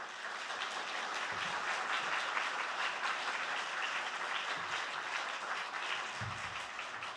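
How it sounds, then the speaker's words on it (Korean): Welcoming applause for the pastor at a Korean church revival meeting: a congregation claps steadily and loudly throughout, a dense even wash of hand claps with a few low murmurs beneath, no speech. "같이 한번 목사님 모실 때 큰 환영의 박수로 맞이하도록 하겠습니다."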